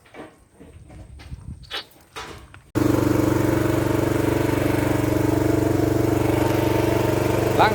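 A 6.5 HP car wash pressure washer with an automatic soap tank starts running after a few seconds of background chatter, then drones steadily and loudly with a low engine hum.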